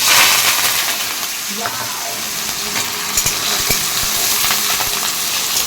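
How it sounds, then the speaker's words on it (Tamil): Mustard seeds, cumin, garlic, onion and curry leaves fry in hot oil for a tomato rice dish, giving a loud, steady sizzle with scattered pops and crackles throughout. "எண்ணெய் காஞ்சிடுச்சு கடுகு சீரகம் நம்ம வந்து போட்டுக்கலாம் இப்போ வந்து பூண்டு அதுக்கப்புறம் வெங்காயம் கருவேப்பிலை எல்லாமே போட்டுக்கலாம்"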